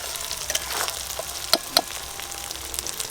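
Onion fried with ginger and garlic paste sizzles steadily in a pan, close up, while a few sharp metallic clinks and scrapes of stirring cut through the frying with no talk.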